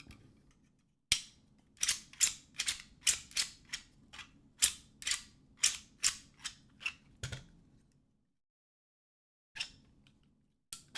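Trigger of an 1873 lever action replica kit gun is snapped repeatedly, a quick series of about a dozen sharp, close metallic clicks in an uneven rhythm with short pauses, over faint background hum.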